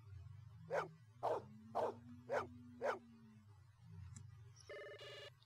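Five evenly spaced dog barks ring out in Blade Runner, PC game, over a low ambient drone, followed by a brief electronic telephone-like ring near the end.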